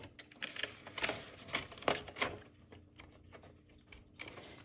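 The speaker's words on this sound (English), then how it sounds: "So I'm going to type a little bit." Typing on a 1960s Remington Bel-Air travel typewriter: an uneven run of crisp key strikes and clacks, close and quiet, with no talking.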